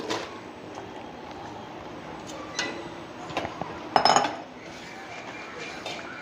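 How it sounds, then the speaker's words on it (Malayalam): Cut pasta for a soul flavor pasta is tipped into a pan and stirred with a metal spoon. Light clinks and scrapes sound over a steady low background, with a louder clatter partway through. "കട്ട് ചെയ്ത പാസ്ത ഞാൻ അതിനകത്തോട്ട് ഇടുവാണ്"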